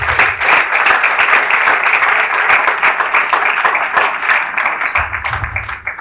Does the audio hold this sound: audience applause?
yes